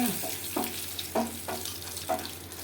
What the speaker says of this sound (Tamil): இதில் இந்த காஞ்ச மிளகாய் சேர்த்துக்கலாம்